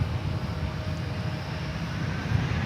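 A jet airliner, flight 3668, roars steadily with a low broadband rumble as it departs from DFW Airport, heard from a distance at a constant level.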